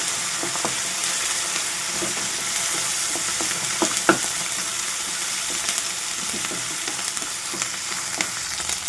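Curry leaves and spices fry in hot oil for avakaya biryani, a steady sizzle running throughout with intermittent scraping stirs and an occasional sharper clink of the spatula against the pan.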